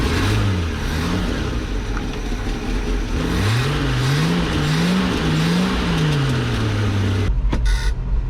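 A 1990 Ford F600 truck's engine runs with a wavering, rising and falling mechanical drone, close and loud throughout, before cutting off into a few brief clunks at the end.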